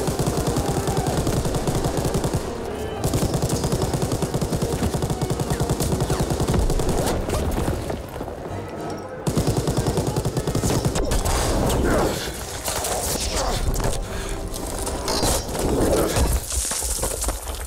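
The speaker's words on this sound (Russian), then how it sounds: "Хуя там танк ебашит." Tank cannon and heavy gunfire in the World War II shooter Call of Duty WWII, a loud, dense, continuous battle barrage of bursts and booms with brief dips around the middle.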